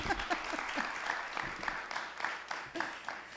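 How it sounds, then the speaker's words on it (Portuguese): An audience at a literary event panel applauds with a few scattered, fairly soft rounds of hand clapping, moderately close, with no one speaking over it. "Uma salva de palmas, gente."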